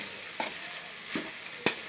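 Tomato bath being stirred in a pan, three distinct scraping strokes spaced roughly evenly apart over a faint constant sizzle of frying, close up and fairly quiet.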